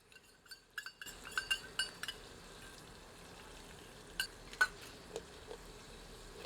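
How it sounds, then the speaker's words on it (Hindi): Ginger-garlic paste hits hot oil in a pan while cooking chicken nihari, giving a soft steady sizzle with sharp clinks of a spoon stirring against the metal. "अब तेल में अदरक लहसुन का मिश्रण सम्मिलित करते हैं।"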